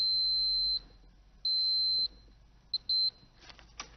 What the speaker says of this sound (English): There should be a continuous tone from the meter indicating continuity.